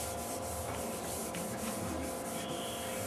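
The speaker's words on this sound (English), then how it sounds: "And then this is a final polisher." A final polisher buffs the waxed base of a ski, making a continuous, even rubbing whir that holds steady at moderate level with no speech.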